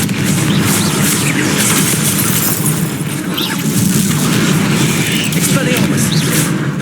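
Confringo blasting spell in Hogwarts Legacy going off as a loud, dense, continuous roar of booming explosions and crashing debris, close and sustained throughout, with a voice heard in the mix.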